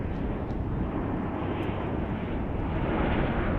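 A jet airliner in Astrojet livery at DFW International Airport at dusk gives off a steady, loud broadband roar that holds evenly throughout, with no voices.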